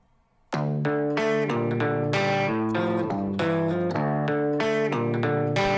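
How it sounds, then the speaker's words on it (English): Clean guitar played direct input through an Apollo Twin with no amp, a series of sharp plucked chords and single notes in a steady rhythm, dry and close, starting after a brief silence. "you can hear a DI. It sounds like this."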